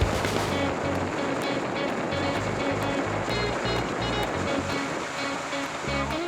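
Speedboat ride across the open sea off Bohol, with a steady loud roar of engine and rushing water slapping the hull throughout, no talking.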